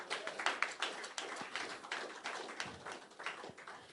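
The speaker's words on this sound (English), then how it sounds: "Let's give Brother Peavy a warm round of applause." Audience applause at a gathering, a fairly soft, steady patter of many hands clapping with scattered sharper claps, continuing without a break.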